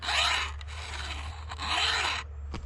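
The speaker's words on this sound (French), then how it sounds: "le bruit qu'on entend au retour, c'est quand je reviens, ça frotte sur le limiteur dans le sens inverse" A hand file sharpens a chainsaw chain, rasping in long strokes with a quieter rub as it drags back over the depth gauge on each return, close and rhythmic with no talk.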